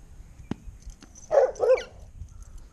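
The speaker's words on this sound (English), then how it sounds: "What a circus trained dog." A dog gives two quick, fairly close barks in a garden setting, with light clatter and background noise around them.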